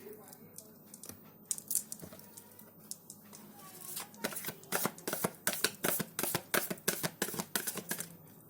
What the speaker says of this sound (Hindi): एक डेक चेंज किया है उसमें से, क्योंकि वो मैच नहीं हो रहा था, सो शफल नहीं हो रहे थे अच्छे से।